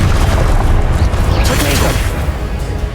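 A Confringo fire spell in Hogwarts Legacy erupts in a loud, close booming burst with a whooshing crackle that fades over a couple of seconds amid ongoing duel sounds.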